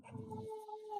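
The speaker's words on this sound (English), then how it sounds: "These dogs are coming near my wife, so you have to just walk." Dogs approaching people while they walk outdoors give a faint, thin whimpering whine, a sustained high tone over about a second, with low rustling noise early on.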